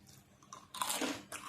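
A crispy baked vegetable chip bitten and chewed up close: a few quiet crunches at first, then loud, dense bursts of crunching with no talking.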